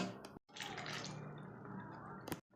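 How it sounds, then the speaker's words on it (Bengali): A small amount of water poured into a cooking pot gives a steady splashing, trickling pour lasting about two seconds, close and fairly quiet, with a brief clink at the start and another at the end. "এবার আমি এর মধ্যে একটু সামান্য পরিমাণ জল দিয়ে দেবো।"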